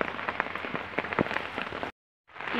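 Light rain falls on potted plants with a close, crackling patter of individual drops hitting leaves, broken by a short gap of silence before the pattering resumes.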